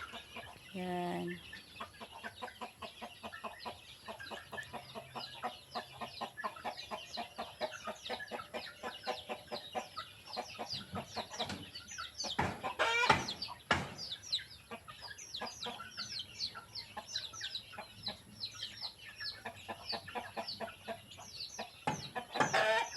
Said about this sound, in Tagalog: Madami-dami na din yung mga manok na inaalagaan namin.